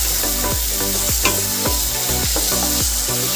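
Spinach and curry leaves fry loudly in a hot pan for a fish curry, giving a steady close sizzle broken by several sharp stirring scrapes and clatters at a regular rhythm.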